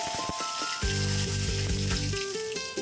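Whole cumin, cardamom and cloves sizzle in hot oil for chicken curry, a close, crackling fry heard alone, with a steady tonal hum running underneath it.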